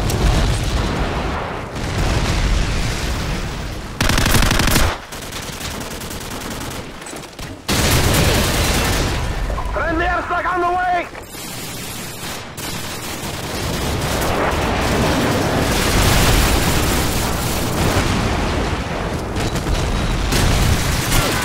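Call of Duty 4 multiplayer airstrike: heavy explosions and dense gunfire fill the whole stretch, with a brief warbling electronic alert in the middle and short gaps between loud booming bursts.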